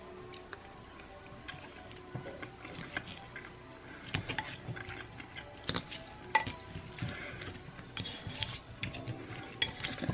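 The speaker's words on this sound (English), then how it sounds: "Stir it all around." A spoon stirs loaded baked potato filling in a pot, giving irregular soft clicks and scrapes against the pan over a quiet background, growing busier toward the end.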